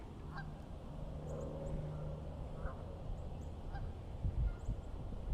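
Geese honk in scattered, faint calls from a distance over steady outdoor ambience on a hot day in Rockford, Illinois, with a few brief louder bumps near the end.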